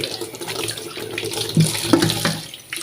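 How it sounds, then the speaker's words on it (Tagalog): Running tap water splashes steadily into a sink as salty banana blossom pickle is rinsed, a close continuous gush with small splashy surges and no talk. "Banlawan ng tubig."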